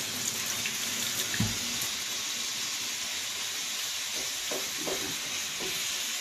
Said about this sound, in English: so we'll rinse it off a little bit